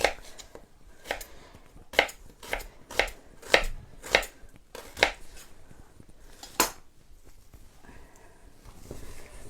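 A knife chops through half a kilo of onion on a board for fermenting, about a dozen crisp, distinct strikes in an uneven rhythm, close and clear, with a quiet pause toward the end.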